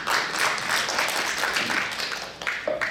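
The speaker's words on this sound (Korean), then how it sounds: "다시 한번 큰 박수 부탁드립니다" An audience at a Korean policy forum marking a committee's first anniversary gives a dense, continuous round of applause, close and loud, tapering off at the end.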